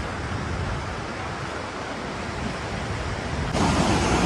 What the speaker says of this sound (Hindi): तो भाई साहब ये रहा वाटरफॉल।